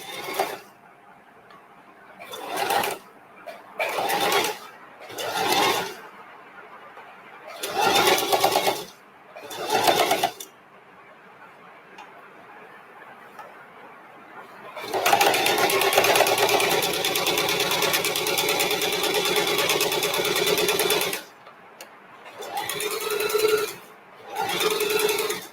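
Sewing machine stitching a thread loop: several short bursts of rapid mechanical whirring, then a longer continuous run before more brief bursts, all close and clear between quiet pauses.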